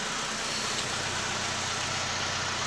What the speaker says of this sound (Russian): Вроде работает двигатель ровно.